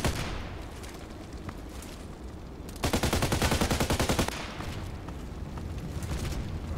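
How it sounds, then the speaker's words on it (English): Gunfire in the shooter game Contract Wars comes from one side: a dense burst of rapid automatic shots stands out mid-clip against a constant rumbling background of weaker distant firing. "Somebody's shooting from the side."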